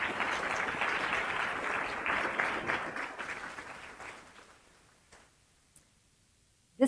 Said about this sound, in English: Let's give all our honorees another round of applause.